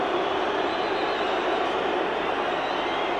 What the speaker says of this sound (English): Rather a lot of booing, which is unusual at Twickenham.